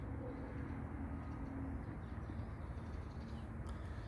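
Kirli Takkalı pigeons coo softly in a loft, a low repeated cooing under a constant broadband hum, faint and without talk.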